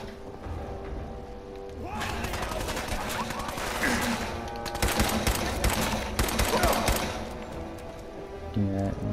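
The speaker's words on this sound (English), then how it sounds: "He's got a machine gun, y'all." Machine gun fire in Fallout 4 comes as dense rapid bursts of automatic shots, loud and close, in several volleys with short pauses between, with game sounds around them.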